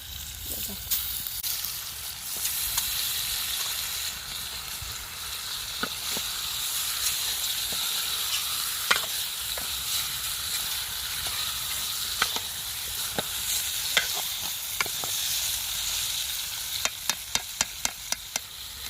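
Fish and onions fry in a pan with a steady sizzle while being stirred, with scattered scrapes and clicks and a rapid run of sharp taps near the end.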